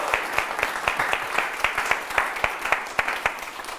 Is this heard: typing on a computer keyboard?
no